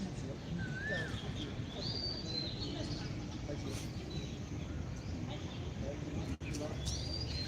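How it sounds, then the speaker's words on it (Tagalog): Birds chirp with a few thin, rising whistled calls scattered over a steady background hum, faint and intermittent under the ambient noise. "Naririnig pa talaga pala nila yung ibon."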